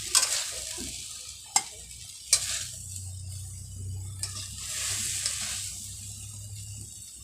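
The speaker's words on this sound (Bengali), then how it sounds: "ভালোভাবে নেড়ে চেড়ে ভেজে নেব। আমাদের শাকটা পেঁয়াজে ভাজা হয়ে গেছে।" Water spinach greens and onion stir-fried in a pan, with soft sizzling and frying hiss under a few sharp scrapes and clinks of a spatula stirring in a village kitchen.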